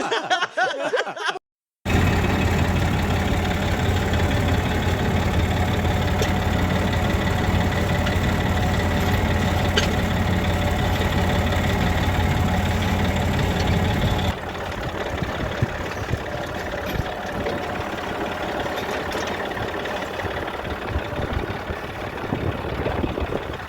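A farm tractor engine runs steadily in a village, a loud low rumbling drone that holds constant after a brief opening gap and eases slightly in level toward the end.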